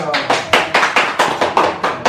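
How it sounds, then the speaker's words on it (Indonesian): Audience at an Indonesian football fan meetup in Bandung claps hands in a loud, steady rhythm of about ten sharp bursts, close and alone, without talk. "Oke, tepuk tangan dong."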